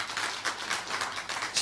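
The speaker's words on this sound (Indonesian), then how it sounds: "Boleh kasih tepuk tangan buat Tuhan kita?" Congregation at a church sermon clapping together, a brief dense burst of applause with no talk over it.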